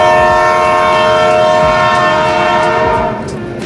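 A train pulls into New Farakka Junction station, its horn sounding in long steady tones over the rumble and clatter of the wagons, loud and close, easing slightly near the end.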